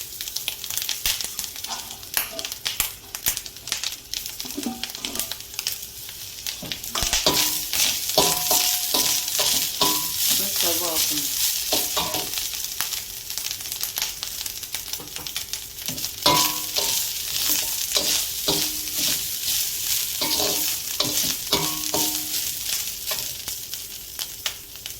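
Coriander and curry leaves sauté in a hot pan for a Chettinadu masala dish, a steady sizzle broken by repeated scraping and stirring strokes of a spatula, close and continuous, with no talking.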